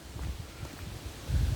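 Wind buffeting the microphone during a morning walk in a park, low gusty rumbles rising and falling over a quiet outdoor background, strongest at the end.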